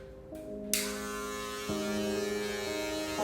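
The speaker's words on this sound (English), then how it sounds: "So that's where I'm going to use my clipper," An electric hair clipper with a 2 guard cuts hair, a close, steady tonal buzz that shifts pitch as it moves through the hair, with no talking.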